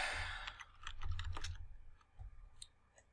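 Quick, irregular clatter of keys typed on a computer keyboard while entering a search on the KuCoin exchange, close and fairly quiet, in bursts with brief pauses and no talking.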